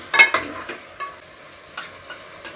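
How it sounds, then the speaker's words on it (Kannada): Chicken liver frying in a pan, a soft sizzle punctuated by several sharp stirring scrapes and clicks of a utensil, close and intermittent, no talking. "ಇವಾಗ ಒಂದು ಟ್ವೆಂಟಿ ಸೆಕೆಂಡ್ ಅಷ್ಟು ಕ್ಲೀನಾಗಿ ಫ್ರೈ ಆಗಲಿ"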